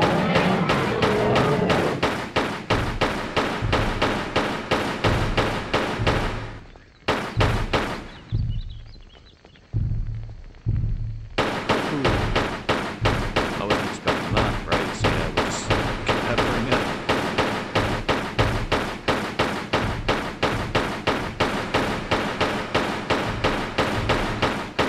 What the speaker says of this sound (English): get our pistols out, and we can start firing